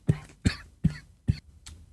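A man coughs in a quick fit, with four sharp, fairly close coughs at roughly even intervals and a fainter fifth at the end, in an otherwise quiet room.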